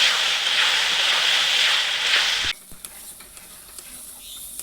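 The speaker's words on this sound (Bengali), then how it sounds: "মশলায় তেল ছেড়ে গেছে মানে মশলা ভাজা হয়ে গেছে।" A tomato, cashew and onion spice paste fries and is stirred in oil, giving a loud, dense sizzling hiss for over two seconds that cuts off abruptly, leaving faint clinks and quiet background.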